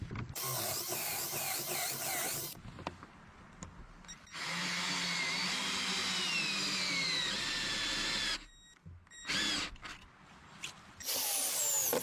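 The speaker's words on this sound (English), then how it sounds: "The sound of the drill echoes." Power drill driving heavy lag screws into the hinges of a log cabin door deep in a forest, a loud sustained whir with brief pauses and restarts, echoing, with ratcheting mechanical clicks near the start.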